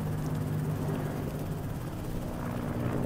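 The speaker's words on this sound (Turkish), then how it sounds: "Oğuz Timi, helikopterlere bakmayın." A military helicopter's steady, heavy rotor drone throbs continuously in the background, a low dense roar that holds at a constant level from start to finish with no speech over it.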